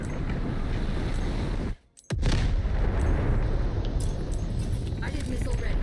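Missile launch and explosions in the shooter Delta Force: a dense roar of blasts and rumble, a sudden drop to near silence, then a sharp crack and the barrage surging back, loud and close.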